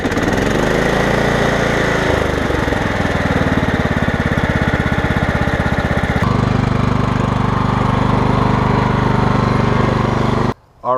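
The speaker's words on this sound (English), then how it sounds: "for now I got a running lawnmower, and that's fantastic" A Craftsman lawn tractor engine, just repaired after smoking with its carburetor cleaned and oil changed, runs loud and steady at close range for about ten seconds, changing pitch partway through before cutting out briefly near the end.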